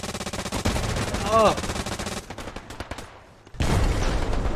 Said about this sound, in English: This machine gunner is blowing